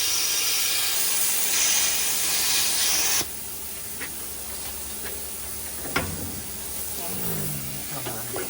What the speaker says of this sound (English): oh, we got grease boiling out of the greaser,